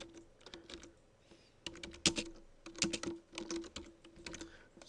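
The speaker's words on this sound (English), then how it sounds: "So I just typed it in and deleted what was there." Computer keyboard keys tapped while entering a title in Movie Maker, a close, fairly quiet run of irregular clicks in small bursts with short pauses, no voices.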